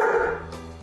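A service dog gives a single sharp, close bark to alert its owner to low blood sugar, short and loud with no other sounds.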